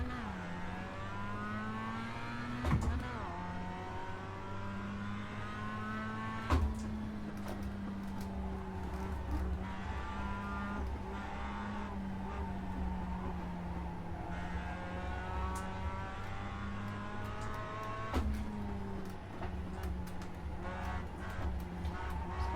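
Race car engine in the iRacing sim at a green-flag race start, droning steadily at mid pitch with slowly shifting harmonics and a few sharp gear-change blips. No talk over it.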